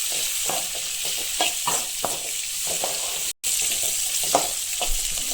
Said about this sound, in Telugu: ఉల్లిపాయలు, కరివేపాకు వేసుకొని మనం ఇలా ఫ్రై చేసేసుకోవాలి.